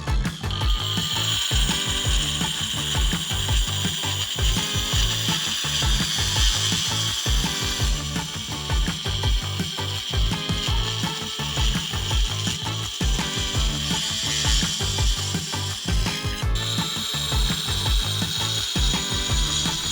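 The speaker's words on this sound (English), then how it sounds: "This time I got a masonry grinding wheel, so I have the right tools for the right job." A masonry grinding wheel cuts into real stone for a reptile water bowl, giving a loud, continuous, harsh grinding roar with a rattling mechanical texture. It runs steadily and close for the whole stretch with no talking.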